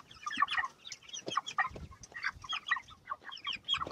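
Meat chickens cluck and squawk while being handled and weighed on a farm, a busy flurry of close, agitated calls in quick irregular bursts, with no talking.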